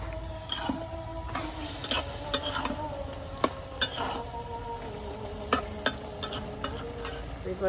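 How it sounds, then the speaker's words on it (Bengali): A curry gets stirred in a cooking pan, with sharp irregular clinks and scrapes of the spoon against the metal over a low background sizzle, close up and without speech. "এখন আমি তরকারি লাড়া দিয়ে দেবো"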